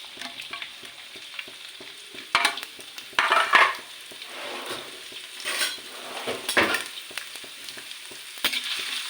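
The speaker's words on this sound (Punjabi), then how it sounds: "ਹੁਣ ਲਾਉਣਾ ਹੈ ਤੜਕਾ ਸਭ ਤੋਂ ਪਹਿਲਾਂ ਇਹਦੇ ਵਿੱਚ ਪਾਉਂਗੀ ਇੱਕ ਚਮਚ ਜਵੈਣ ਦਾ ਤੇ ਨਾਲ ਹੀ ਇਹਦੇ ਵਿੱਚ ਪਾ ਦੇਣਾ ਅਦਰਕ ਤੇ ਲਸਣ" Carom seeds, ginger and garlic sizzle in hot oil for a tempering, a continuous crackling fry punctuated by louder bursts as a spoon stirs and scrapes against the pan.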